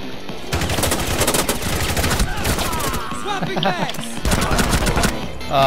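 Video game pistol fire comes in rapid bursts of loud, close shots with short pauses, while excited voices talk and shout over the gunfire.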